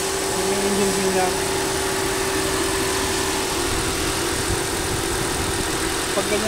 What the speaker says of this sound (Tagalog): Yung engine din niya.